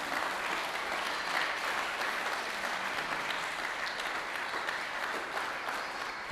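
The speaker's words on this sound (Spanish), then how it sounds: "Denle una ofrenda de aplausos al Señor" A church congregation gives sustained applause during a Sunday service, a continuous, even roar of many hands clapping that holds steady throughout at moderate volume.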